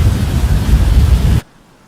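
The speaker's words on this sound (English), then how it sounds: "I think I can tell we got some decently powerful rain." Heavy rain in the Roblox storm-chasing game Twisted roars as a dense, loud wash of noise, then cuts off abruptly partway through, leaving near silence.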